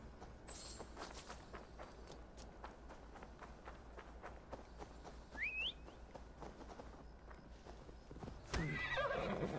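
Horse hooves clip-clop steadily in the Assassin's Creed Valhalla video game, an even trotting rhythm at moderate volume, with a brief whinny partway through and a louder burst of game sound near the end.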